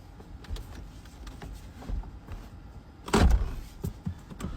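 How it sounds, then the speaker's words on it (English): A car's power window closing, a motor whir running under faint interior noise before a louder thump and rattle as the glass seats, followed by a few light clicks. "Close the window."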